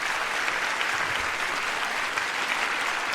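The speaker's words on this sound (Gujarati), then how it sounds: "તાળીઓ પાડો યુગ માટે." An audience at a school annual event applauds a student, a dense, continuous burst of many hands clapping at an even level, with no speech over it.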